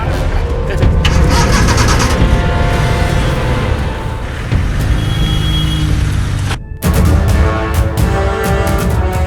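A vehicle engine starts and settles into a loud, close idle rumble that runs steadily for several seconds, with a brief dropout before the running engine resumes.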